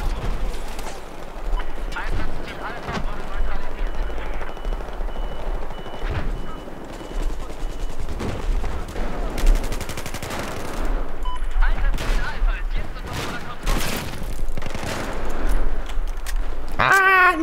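Heavy gunfire in Battlefield 4 multiplayer, dense bursts and scattered shots continuing throughout with voices talking over the action.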